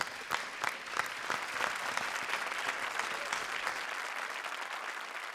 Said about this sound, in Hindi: एक बार फिर जोरदार तालियां शयंतनी के लिए